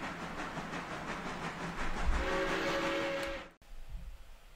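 A freight train is being assembled in the railroad video game Railroader. There is a steady rumble and hiss of railcars, with a brief tonal squeal, and then a sharp clunk of a coupling before quieter rolling noise.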